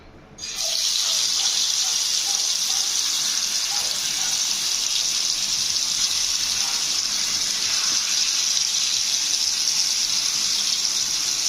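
Raw plantain slices fry in hot oil on a tawa, producing a loud, continuous bright hiss that starts abruptly and holds steady, close up with a few faint pops and no speech.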